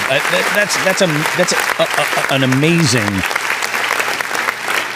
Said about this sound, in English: He gets a big round of applause